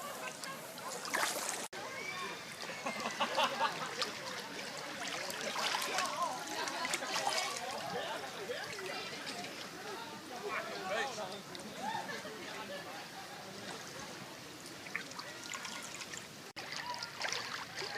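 Creek water flows steadily at Eli Creek on Fraser Island, a continuous trickling and sloshing wash heard throughout at moderate level, with voices talking over it.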